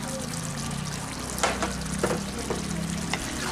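Mutton frying in a pan with a little gravy and garam masala gives a steady, close sizzle, broken by several soft scraping knocks as the meat is stirred.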